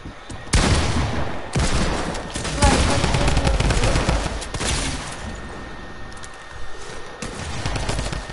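Fortnite gunfire in a dense, loud stretch of sustained automatic bursts and booming shots running nearly the whole clip, with brief pauses between volleys.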